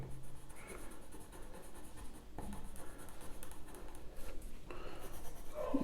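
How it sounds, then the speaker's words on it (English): Graphite pencil pressed hard on paper while sketching fur in a realistic drawing, a dry continuous scratching that comes in short strokes with brief pauses, close and fairly quiet. "Just pressing the pencil very hard against the paper."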